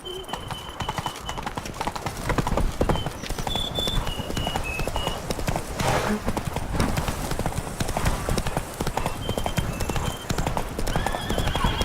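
Roach the horse gallops in The Witcher 3, steady clip-clop hoofbeats running throughout with occasional whinnies, over game music and ambient effects.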